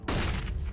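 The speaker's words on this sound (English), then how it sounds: "Throwing flashbang." A flashbang grenade going off in VRChat, a loud sudden burst that holds as a dense rumbling roar for under a second, alone with no talk.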